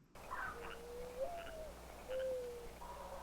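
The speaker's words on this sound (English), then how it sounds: "That is a mourning dove if I've ever heard it." A mourning dove coos softly in a drawn-out, mournful series of low notes, used as a sound effect in a tropical rainforest documentary, heard over a faint hiss with no speech.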